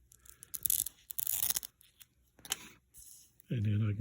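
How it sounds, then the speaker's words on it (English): A seam ripper cuts through the stitching on a single layer of kite fabric, giving close, crisp tearing and snipping bursts in short bursts before a voice begins to speak at the end. "seam ripper works pretty good"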